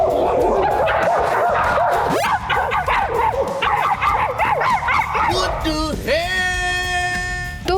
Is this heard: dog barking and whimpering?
yes